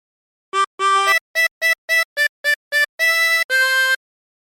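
A harmonica plays the first phrase of a theme: a run of short, clean blown and drawn notes, some clipped and staccato, ending on two longer held tones, close and alone.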